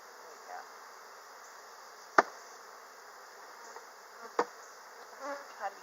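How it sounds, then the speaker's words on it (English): Bees flying around stacked hive boxes after one box is dumped over the older ones, a steady soft insect hum with a few sharp knocks and faint low voices in the background. "there's going to be a lot of flying bees"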